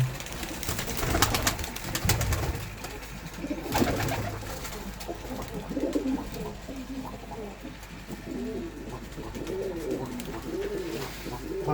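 Pigeons in a Punjabi village coop coo repeatedly in low, rolling calls, with a steady background of other birds and a few brief voices nearby.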